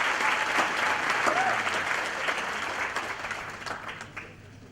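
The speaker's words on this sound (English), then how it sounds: "Another hand of applause." Sustained applause from a crowd at a college graduation ceremony, loud and dense throughout, with faint voices mixed in and a gradual fade near the end.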